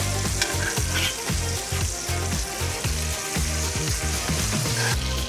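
A T-bone steak sizzles in butter in a hot pan with a loud, continuous crackling hiss, accompanied by a low, rhythmic background beat.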